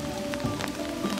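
Rain patters steadily outside, a soft, even wash of drops heard at a moderate distance with no other sounds.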